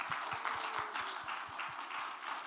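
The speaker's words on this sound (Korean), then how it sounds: "우리 모두 다 감사하는 박수 한번 냅시다." A church congregation at a Sunday evening service claps in thanks, a moderate, somewhat distant patter of hands with a regular low thumping pulse running beneath it, no speech.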